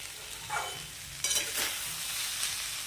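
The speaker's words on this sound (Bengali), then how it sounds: "অল্প আঁচে ভালো করে সবজির সাথে মিশিয়ে আমি নাড়াচাড়া করে নেব" Vegetables and rice being stirred in a pan over low heat, with a gentle ongoing sizzle and a few scraping stir strokes, the loudest about midway, no talking.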